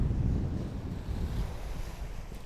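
Strong wind buffets the microphone on an ocean overlook while waves surge below, a loud, low, rumbling gusty roar that rises and falls without pause.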